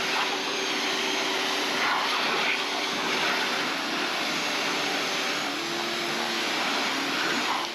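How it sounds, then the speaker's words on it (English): An electric pressure washer sprays water onto a BMW M4 Competition xDrive during a car wash, giving a steady, loud, unbroken hiss and motor drone throughout. "this pressure washer compared to like the gas pressure washers, it's definitely nowhere near as strong"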